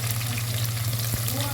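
Onions and garlic frying in a pan for a drumstick (moringa) leaves dish give a steady close sizzle with constant broadband crackle over a low hum, and one brief knock near the end.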